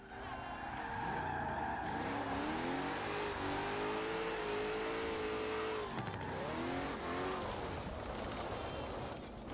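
Cars in the racing game Forza Horizon squeal their tires in long skids while engines rev and whine through rising and falling pitch, loud and continuous with no talking.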